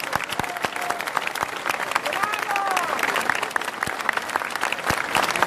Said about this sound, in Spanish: el viejo Alfonsín, para quien pido un fuerte aplauso.